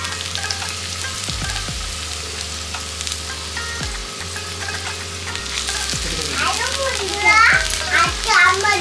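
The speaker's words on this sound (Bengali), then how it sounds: "তেল গরম হয়েছে, এটা হচ্ছে গাজর কুচি।" Chopped carrot frying in hot refined oil, giving a steady close sizzle with occasional stirring scrapes. Children's voices and chatter rise over it toward the end.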